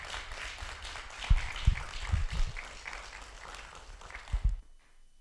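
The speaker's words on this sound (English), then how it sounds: "let's give her a round of applause" A crowd at a college signing ceremony gives a round of applause, dense steady clapping with a few louder hits that stops abruptly near the end.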